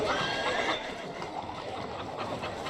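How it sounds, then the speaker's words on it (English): A horse neighs amid a busy, thriving market crowd, its whinny rising briefly over loud general chatter and bustle that continues throughout. "And of course, there's the occasional horse."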